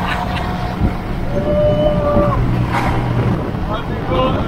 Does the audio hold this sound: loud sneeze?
no